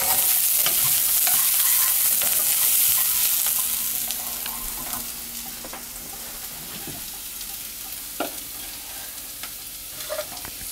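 Garlic sizzles in hot oil in a pan, a steady frying hiss that starts louder and then settles lower, with a few soft clicks of stirring and no talk.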